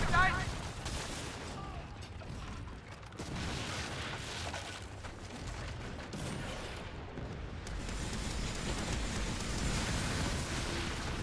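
Ship's rear cannons firing in the naval game Skull and Bones, a steady barrage of booming shots and rumbling blasts continuing across the whole stretch, mixed with game effects, with speech present.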